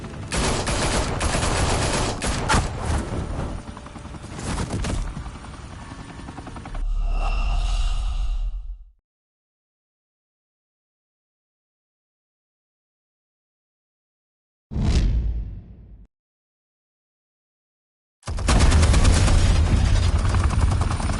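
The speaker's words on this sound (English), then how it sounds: "Open fire!" A fusillade of gunfire from several guns bursts out in a dense, loud roar of rapid shots, cuts off abruptly, returns for a brief blast after a silence, then resumes as sustained heavy fire.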